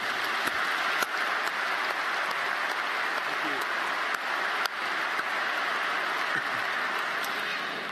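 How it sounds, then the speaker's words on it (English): Audience applause at a spring university commencement ceremony, a broad, even roar of many hands clapping in a large hall, steady throughout with a few sharper individual claps standing out. "Let's have a round of applause for these individuals."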